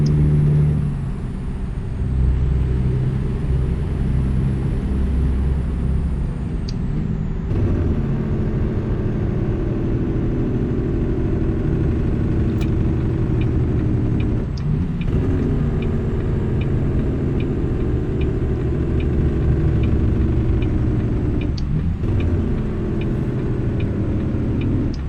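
A truck engine in American Truck Simulator drones steadily as it accelerates, with a low continuous rumble throughout and a couple of brief shifts in tone.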